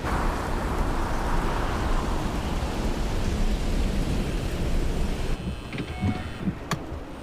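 A thunderstorm with steady, loud rain pouring down and a deep rumble of thunder, continuous and close, easing slightly toward the end.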